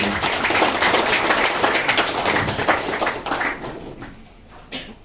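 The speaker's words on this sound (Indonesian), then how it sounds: "Tepuk tangan kalian." A school audience at a student orientation event in Karangasem, Bali, claps in a dense, steady burst of applause that thins out and fades over the last second or two.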